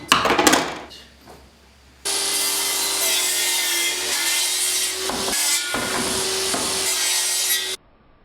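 Hand saw cutting wood for a workbench, a loud, steady rasping stroke that runs for several seconds after a brief rustle, then stops abruptly.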